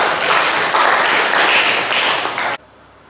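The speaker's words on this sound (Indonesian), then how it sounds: "Tepuk tangannya." Audience applause at a lecture or class session, dense and steady for about two and a half seconds before cutting off abruptly into near silence.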